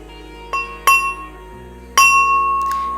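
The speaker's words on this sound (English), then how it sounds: "there's also some mortar and pestle" Mortar and pestle struck as samples, giving four sharp, ringing clinks spaced across a few seconds over a steady low hum, each with a bright glassy tone that slowly decays.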